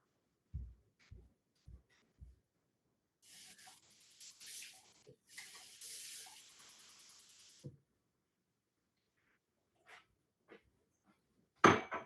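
Water pours into a cup or glass during a lecture break, a bright hissing splash lasting a few seconds, followed by a short gap and then a few quiet clinks and thuds as the drink is handled nearby.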